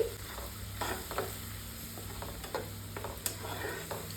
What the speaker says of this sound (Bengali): আদা রসুনের পেস্ট দিয়ে দিয়েছি, এবার আমি ভালো করে নাড়িয়ে নিচ্ছি।